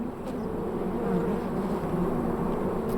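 Desert bees hum steadily at a Sonoran Desert nest site where each builds a curved soil turret, producing a continuous close droning buzz with no voices.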